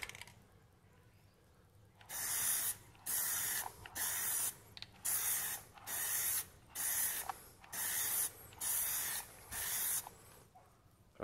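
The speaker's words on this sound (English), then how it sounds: "Just shook up the can, spraying out anything that's left over." Plasti Dip sprayed from an aerosol can onto a car emblem, about nine short loud hissing bursts separated by brief pauses, close to the microphone with no talking.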